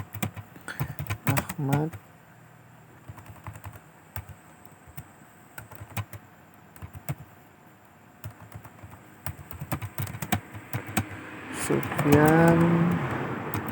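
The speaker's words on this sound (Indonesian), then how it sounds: "Jadi kita ketikkan nama" Keys clatter on a computer keyboard as a name is typed in quick irregular bursts, close and crisp, while someone speaks over part of the typing.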